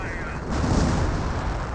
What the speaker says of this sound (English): Yep, I think that's a creeping barrage.